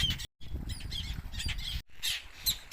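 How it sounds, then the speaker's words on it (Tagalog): Seabirds squawk at a crowded nesting rock out at sea, harsh overlapping calls coming in repeated bursts, close and fairly loud, with a brief dropout midway. "Dinadagit ako ng mga ibon."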